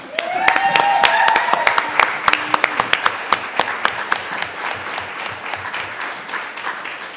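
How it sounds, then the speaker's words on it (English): Symposium attendees in Winnipeg break into applause, a loud burst of clapping that thins into scattered, distinct individual claps. A voice and a few cheers rise briefly near the start. "So round of applause for you."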